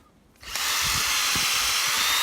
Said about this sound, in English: I'm going to run this drill in there one more time to get all the stuff out of there